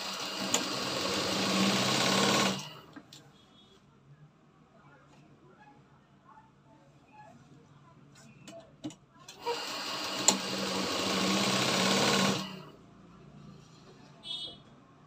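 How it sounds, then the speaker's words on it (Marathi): A sewing machine stitching a blouse seam runs in two steady whirring bursts, near and fairly loud, separated by a quiet stretch with soft handling clicks and someone speaking. "पहिले सरळ बाजूने मारायची शिलाई, मग उलट करून मारायची."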